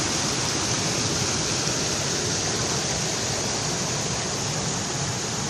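Water rushes steadily over a small ford crossing a road near Saint-Paul pond on Réunion, a continuous broad splashing roar that stays close and unchanging with no voices.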